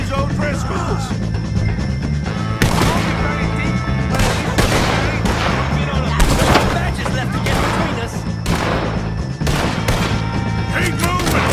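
Gunfire erupts in a Red Dead Redemption 2 shootout against the O'Driscoll gang, with loud, dense volleys of overlapping shots and heavy booms filling the whole stretch without pause.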